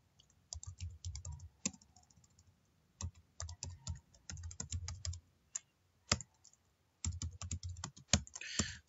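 Typing on a computer keyboard while configuring a Cisco router, quiet close-up bursts of rapid key clicks separated by short pauses, with a few louder single keystrokes and no talking.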